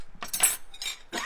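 A knife and fork clink against a dish of hot dry noodles cooked on a Big Green Egg grill, making a few quick, bright metallic taps close by.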